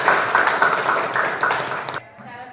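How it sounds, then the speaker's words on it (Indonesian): Audience applause in a classroom presentation, dense clapping for about two seconds with a rhythmic chant-like voice pattern mixed in, then cutting off abruptly to quiet room tone. "Oke, beri aplaus untuk"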